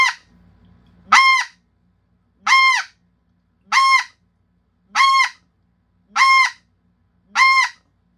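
A snow goose call blown by hand gives six short, nasal honks at an even pace, each about half a second long. They are loud and close, with nothing else sounding between them after a brief low rumble at the start.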